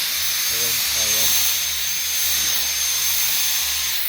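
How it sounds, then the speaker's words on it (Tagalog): A snow blower clears thick snow after a snowfall in Canada, its engine and chute giving a loud, steady roaring whoosh, with a few short low mechanical tones early on. "Buti na lang malakas yung blower natin."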